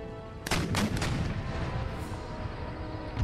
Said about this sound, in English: Switch my howitzers to quicklime, ready for these horsemen to get within range, and then just quicklime the bejesus out of them